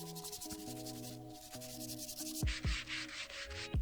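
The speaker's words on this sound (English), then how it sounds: "I just finished it off by hand sanding all on the tops and bottoms and around the edges." Scrap-wood hanging heart decorations are hand sanded with 80 grit sandpaper on their tops, bottoms and edges, producing close rhythmic scratchy rubbing strokes that grow louder and faster toward the end.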